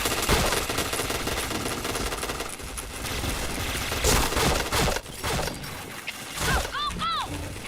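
Rapid gunfire from a video game shooter, dense and continuous with bursts and a few sharp metallic pings near the end, loud throughout with speech faintly mixed in.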